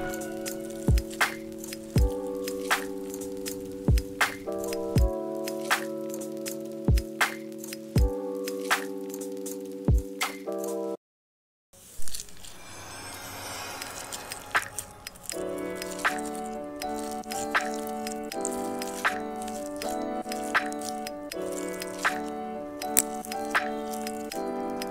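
Crunchy slime is squished and mixed by hand in repeated close crackly squelches and pops, set against steady background music with a short silent gap midway.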